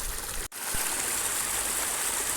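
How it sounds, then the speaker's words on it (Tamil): Spring water rushes steadily down a hillside in Perambalur, a continuous close, loud wash of flowing water with no break, apart from one very brief dropout. "தண்ணி நல்லா ஊற்று மாதிரி ஒடியாந்துட்டே இருக்குது"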